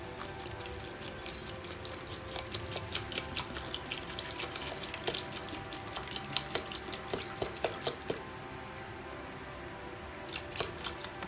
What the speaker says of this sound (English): I'm going to put in maybe 2 cups of water inside.